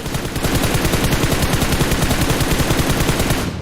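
Automatic gunfire in a shooter video game rattles in a loud, unbroken rapid burst of shots lasting several seconds.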